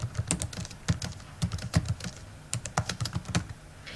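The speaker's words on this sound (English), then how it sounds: "When you're typing text," Typing on a computer keyboard, quick irregular clicks of keys pressed in short bursts, close and clear with no voice over it.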